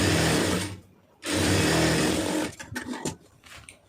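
A sewing machine runs in two steady bursts with a short pause between them while stitching lace onto a round neck design, close and whirring, followed by brief clicks and fabric handling.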